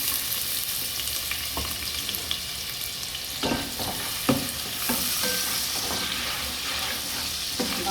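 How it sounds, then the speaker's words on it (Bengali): Onions fry in hot oil for chicken pulao, giving a steady close sizzle with occasional stirring clinks and scrapes throughout, no voices. "পেঁয়াজ দিয়ে দিচ্ছি।"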